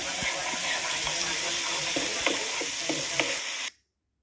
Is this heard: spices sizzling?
yes